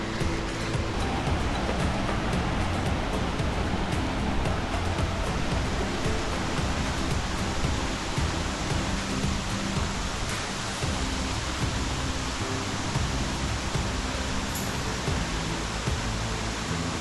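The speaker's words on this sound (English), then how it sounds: "And the sound of the water is getting louder again." Steady, dense rush of Elabana Falls at O'Reilly's Rainforest Retreat, a broad continuous roar of falling water heard from a rainforest trail, unbroken and fairly loud throughout with no voices.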